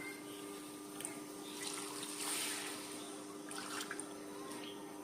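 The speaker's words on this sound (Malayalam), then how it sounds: "രണ്ട് കപ്പ് തേങ്ങാപ്പാല് ഇതിലേക്ക് ഒഴിക്കാം" Two cups of freshly squeezed coconut milk poured into a pot for paal kappa, a soft, steady liquid trickle and splash that swells in brief bursts, fairly faint and close, with no voices.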